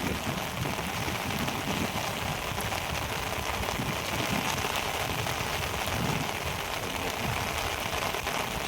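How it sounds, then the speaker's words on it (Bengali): Steady rain falls in a dense, even hiss on surfaces nearby, continuous throughout with no voices. "এখন বৃষ্টি শুরু হয়েছে"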